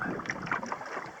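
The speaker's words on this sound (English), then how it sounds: "the wind's picking up pretty good out here" Steady wind rushes across an open lake around a paddled boat, a broad continuous noise with faint lapping over it, no talk.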